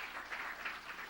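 Church congregation applauding during a sermon, a steady dense patter of clapping held for about a second at moderate, slightly distant level.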